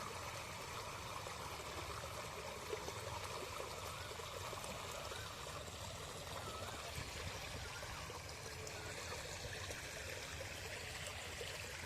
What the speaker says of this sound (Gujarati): લાઈન તૂટેલી હોય કેટલાય પાણી નીકળતું આવે છે